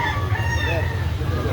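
A rooster crows and clucks nearby, loud and continuous, with people talking in the background.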